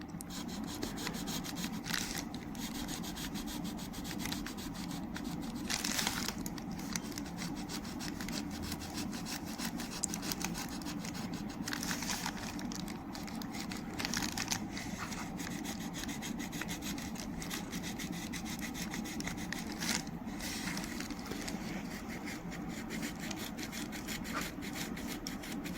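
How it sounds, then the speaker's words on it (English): Rotary glass grinder cutting a hole into a piece of stained glass for an octagonal 3D spinner kaleidoscope, a steady, close, abrasive whirring grind that carries on without a break. "we're going to be grinding out a hole"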